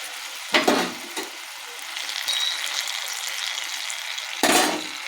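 Water is poured into a pan of frying fish curry, bursting into sharp hissing sizzles twice, with a softer bubbling simmer between the bursts.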